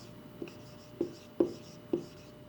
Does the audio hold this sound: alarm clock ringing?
no